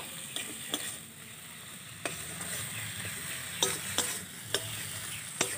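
Chopped tomato being sautéed with spices in a pan, a soft continuous sizzle with scattered scrapes and taps of a spatula stirring, fairly quiet and close.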